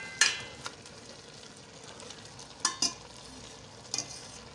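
Saag made with mustard greens, bathua and crushed ginger is stirred in a pot, a quiet sizzle running under three sharp scraping strokes of a spoon, spaced apart.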